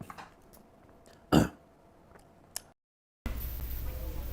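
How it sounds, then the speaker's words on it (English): A person burps several times, one loud close burp standing out among smaller throat sounds and quieter gulps, followed by a brief silence and then steady background noise. "He's just burping a lot."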